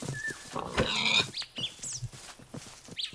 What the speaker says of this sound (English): Oh yeah, the pigs!